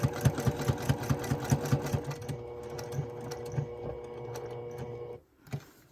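Sewing machine running fast with a steady stitching rhythm while topstitching around a cosmetic bag without backstitching, slowing and then stopping near the end before a brief handling noise.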